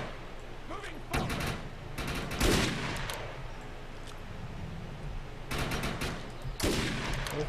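Bursts of gunfire in the video game Defiance, several clustered volleys of sharp shots over steady game background noise, with a player's voice now and then.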